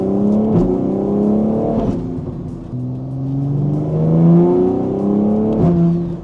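A BMW G80 exhaust with an equal length midpipe and valves closed, cruising in eighth gear, gives a deep, steady, close drone that swells and eases gently throughout, with no metallic rasp.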